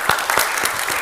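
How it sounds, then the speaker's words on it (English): A church congregation applauds the children during a Sunday service, with steady, dense clapping throughout and no speech. "How about a round of applause for our kiddos now?"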